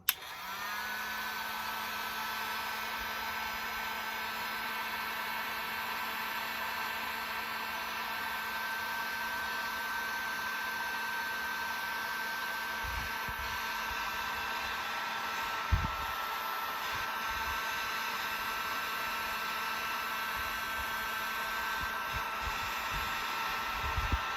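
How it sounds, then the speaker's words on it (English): Steady, loud rush of hot air from a heat gun blowing continuously with a constant motor hum, running without pause, a faint clunk partway through. "I'm going to use a heat gun"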